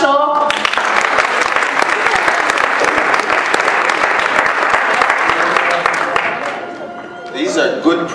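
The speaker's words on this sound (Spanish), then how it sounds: "¡Aplauso!" Sustained audience applause and clapping at a Sunday fan convention panel, a dense steady wash that fills several seconds before tapering off, with a voice briefly audible at the end.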